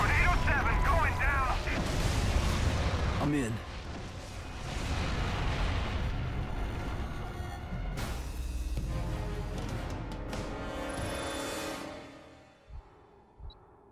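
Heavy weapon fire during a boss battle in the Prototype video game: deep booming blasts and rumbling explosions roll on continuously, with a voice talking over parts of it.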